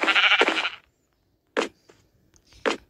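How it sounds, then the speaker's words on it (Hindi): Three sheep bleats from the Minecraft video game: a long, loud bleat, then two shorter, sharper calls spaced about a second apart, with near silence between them. "एक भेड़ ने मुझे याद करा दिया कि मुझे भी उसे मारना है।"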